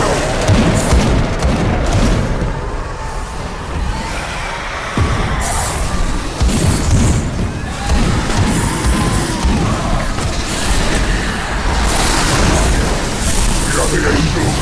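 Missile explosion in a video game, heavy booming blasts and rumbling bangs running continuously under a layer of game noise and voices.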